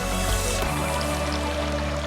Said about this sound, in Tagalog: Yung tunog lang ng tubig ang maririnig mo.